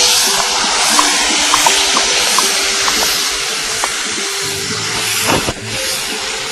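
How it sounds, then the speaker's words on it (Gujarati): Boiled moth beans tipped into a hot spiced tempering with turmeric and red chili for sev misal: a loud, steady sizzling hiss that continues throughout, close up, with a brief clatter near the end. "પછી જે આ મઠ છે એ આપણે એમાં નાખી દઈએ."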